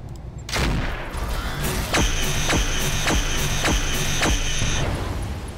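Pulse laser weapon firing in the mech game Roguetech: a rapid series of five sharp, evenly spaced zapping bursts with a bright tonal ring, loud and close, following a lower rumble of machinery.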